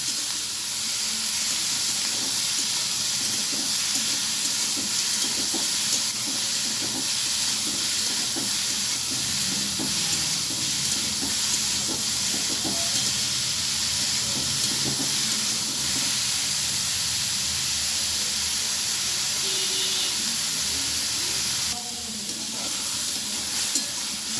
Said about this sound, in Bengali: আমি ভালোভাবে এবার ভেজে নেব।